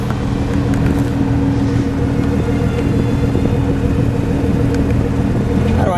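A 2017 Ford GT with a 650 hp turbocharged V6 drives along, its engine a loud, steady low rumble filling the cabin with constant road noise and no break.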